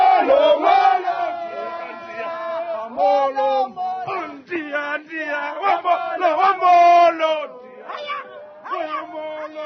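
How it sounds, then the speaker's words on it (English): Fans gathered at OR Tambo International Airport greet South Africa's Bafana Bafana football team with loud, close chanting and high, wailing cheers that come in rhythmic bursts with short gaps between them. "You can just see their blood is gold and green, and they just cheer and support Bafana Bafana, calling them winners."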